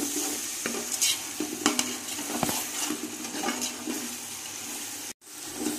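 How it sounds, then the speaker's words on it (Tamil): Ground coriander paste for chicken biryani sautés in a pan, a continuous close sizzle broken by the scrape and stir of a spoon, briefly dropping out near the end. "கொத்தமல்லி நல்லா வணங்கிடுச்சுங்க"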